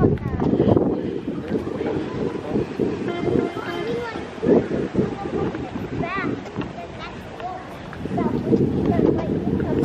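Wind rushing across the microphone during a boat ride to Disney Springs at Walt Disney World, a constant low rumble with people talking over it throughout.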